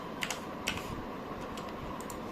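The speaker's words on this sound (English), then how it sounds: "Type dxgi." A few quiet keystrokes tap on a computer keyboard in short, irregular clusters over a faint background hum.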